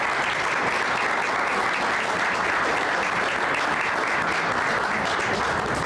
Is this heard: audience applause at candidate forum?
yes